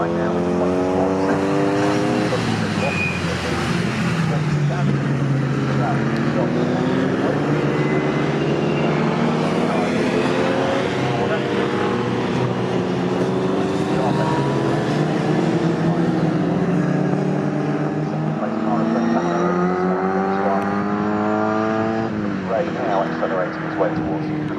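Historic 1960s race cars from a CSCC Swinging Sixties Group 1 race accelerate past at Snetterton circuit, loud engines rising and falling in pitch as several cars pass in succession, with a race commentator talking over them.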